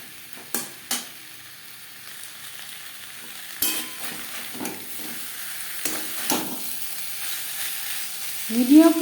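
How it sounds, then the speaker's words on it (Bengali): Fried papaya is stirred with coconut masala in a pan, a soft, steady sizzle running underneath scattered scraping strokes and sharp spatula knocks against the metal. "নারকেলের মশলার সাথে পেঁপে বেশ ভালো করে মিক্সড করে দেব।"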